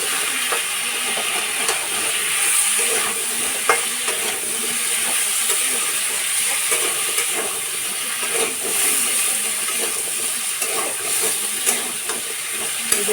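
Taro and vegetables with turmeric are stirred in a hot pan, a continuous loud sizzle and hiss with occasional scraping strokes of the spoon throughout.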